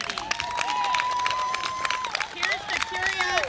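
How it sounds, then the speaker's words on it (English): A rally crowd applauds with scattered cheers and clapping, moderately loud and sustained, while a voice speaks over it. "let's all have one more round of applause to thank Vaughn for her curiosity"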